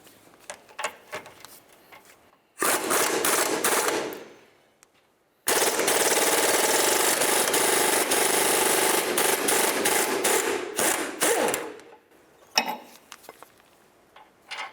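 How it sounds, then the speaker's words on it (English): A power impact wrench zipping off a 19mm nut from the lateral link of a 1999-2003 Toyota Solara, two loud sustained rattling bursts, the second longer, separated by a pause, with faint clinks around them. "I'm going to use my 19mm wrench, come right along the back side of this bolt"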